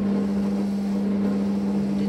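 Steady, loud motor whine of a Fagor connected kitchen robot mixing msemen dough at speed 2, an even continuous hum with a strong constant tone and no pauses or voices.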